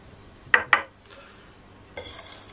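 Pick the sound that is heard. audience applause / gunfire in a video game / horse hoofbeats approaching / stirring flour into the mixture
stirring flour into the mixture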